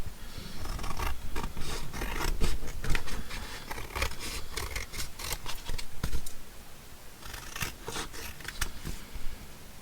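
Scissors cut paper into a tag as a papercraft project: a string of crisp, close snips and rustling paper, in irregular bursts with brief pauses between.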